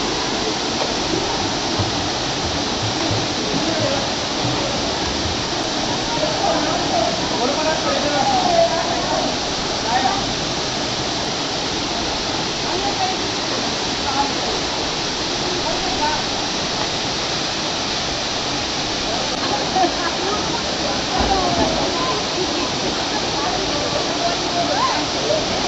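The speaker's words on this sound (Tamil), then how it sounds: "water ஃபால்னாலே special" A waterfall on a family trip in Karnataka roars as a steady, dense rush of falling water, loud and close throughout, with faint voices now and then beneath it.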